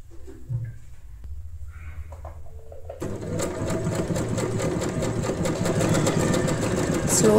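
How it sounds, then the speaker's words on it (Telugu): An Usha Janome Wonder Stitch sewing machine stays quiet for about three seconds, apart from faint handling sounds. It then starts stitching with a steady whirring hum and rapid, even needle ticking that carries on to the end. "స్లోగా కుట్టండి, లేకపోతే థ్రెడ్ అనేది కట్ అయిపోతుంది అన్నమాట"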